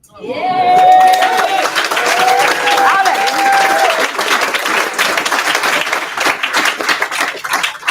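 An audience at an International Women's Day event in Cape Town claps loudly and continuously, a dense burst of applause from a close crowd with voices and cheering mixed in at the start, tapering slightly over eight seconds.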